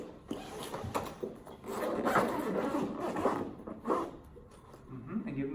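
Instrument cases are unzipped or unlatched in a practice room, giving a run of close scraping zipper pulls and clicks with faint background voices.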